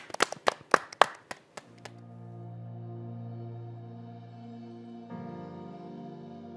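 A few sharp, close hand claps at a Korean church broadcast event for Gangneung wildfire relief, fading quickly into sustained organ-like music tones.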